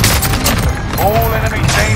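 Video game gunfire, rapid overlapping shots and booms forming a dense, loud barrage with voices talking over it.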